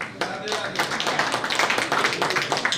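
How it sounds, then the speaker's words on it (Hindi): Loud applause from an audience at an all-India neurotherapist convention, dense continuous clapping that holds steady for a few seconds without a break. "जोरदार तालियां।"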